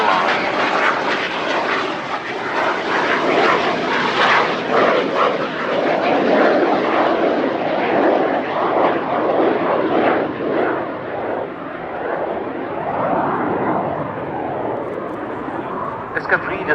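A Fouga Zephyr jet trainer, arrestor hook hanging from its rear fuselage, roars past at the Yeovilton airshow in 2018. The loud, sustained engine rush swells and slowly fades as it passes.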